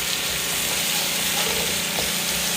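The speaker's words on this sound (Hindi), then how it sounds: "थोड़ा सा इसको फ्राई करेंगे, इसका क्रंच हम ख़त्म नहीं करेंगे" Chicken and onion cubes fry in a pan for chilli chicken gravy, giving a steady close sizzle with faint stirring scrapes, no voices.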